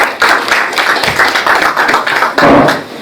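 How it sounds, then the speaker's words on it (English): An audience at a keynote speech event claps after a speaker is introduced, scattered hand claps building into a fairly sparse, uneven round that swells again near the end. "Please, can we give her a sound round of applause?"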